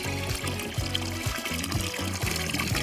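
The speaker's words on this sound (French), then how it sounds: "Remplissons-la d'eau." Water poured steadily into a small toy pool, a continuous trickling and splashing pour that carries on alone without talk.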